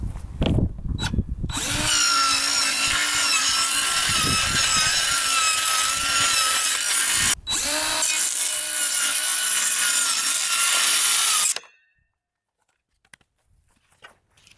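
A circular skill saw rips through 3/8 plywood in one long, loud, steady cut of about ten seconds, with a brief dip midway, then stops abruptly into near silence.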